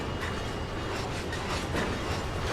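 Train in Train Sim World rolling through a hump yard: a steady, close rumble of wheels on rails with rhythmic clickety-clack and faint squeal, continuous throughout with no voices.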